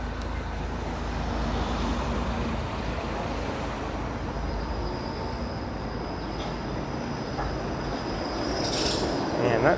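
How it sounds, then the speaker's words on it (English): A Toronto streetcar passes along a city street, a steady rumbling roll of wheels on track amid surrounding traffic noise, with a faint squeal near the end. "And that streetcar, I think, will be heading all the way over to the High Park Loop."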